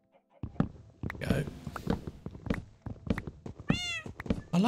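Cats meowing in Minecraft, several short mews scattered among thumps and clicks of gameplay, with people talking steadily over them.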